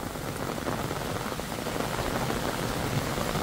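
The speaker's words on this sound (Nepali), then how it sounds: "हेर्नु पानी पर्दैछ अहिले" Heavy morning rain pours down in a close, dense and constant patter on surfaces, continuing unbroken with no voices.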